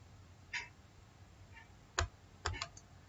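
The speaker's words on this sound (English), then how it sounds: "now in the search bar just type Device Manager" A few sparse, quiet keystrokes on a computer keyboard, separate clicks with pauses between them, close-miked in an otherwise still room.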